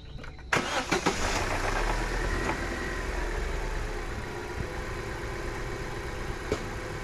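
A 2017 Chevrolet Tracker 1.8 engine cranks and catches with a sharp burst, then settles into a steady, close idle that runs on without talk.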